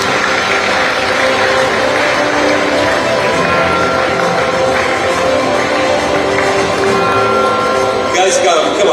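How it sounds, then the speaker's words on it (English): Audience applause at a football award ceremony, a steady wash of many hands clapping throughout, with crowd murmur and a voice talking over it. "we need to do better with a round of applause"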